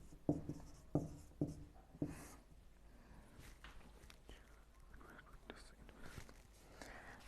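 Chalk or pen writing by hand during an income tax lesson: a few sharp taps at the start, then quieter scratching strokes, close and faint with low background murmur.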